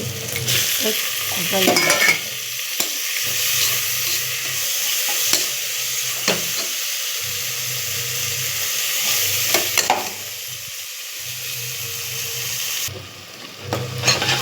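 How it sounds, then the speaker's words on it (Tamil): Tomatoes sauté in a pan for biryani with a loud, continuous sizzle and hiss. Spoon strokes knock and scrape against the pan again and again across the stretch, and the sizzle drops briefly near the end. No one speaks. "தக்காளி நல்லா வதங்கிடுச்சு, பார்த்தாலே தெரியும்."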